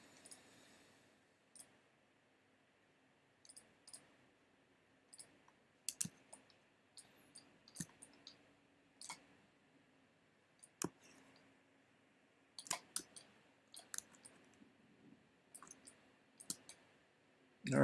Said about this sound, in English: Click on the template layer.